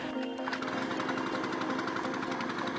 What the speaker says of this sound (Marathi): छोटा जनरेटर आहे जो हायड्रोलिक पॉवर जनरेट करतो